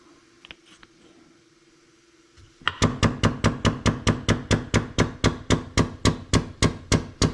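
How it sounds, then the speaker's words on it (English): A leaky, pneumatically powered pneumatic-over-hydraulic hose crimping machine crimps a hose, with a steady run of loud, sharp rhythmic pulses that start abruptly after a quiet stretch and repeat evenly to the end. "My old hose crimping machine that's leaky and pneumatically powered."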